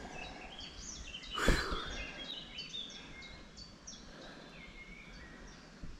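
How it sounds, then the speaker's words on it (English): Birds sing along a coastal walking path in Jersey, light scattered chirps and short calls continuing throughout, faint and somewhat distant, with a brief louder rustle or bump near the start. "Birds are singing."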